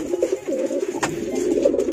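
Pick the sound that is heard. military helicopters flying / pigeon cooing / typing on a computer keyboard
pigeon cooing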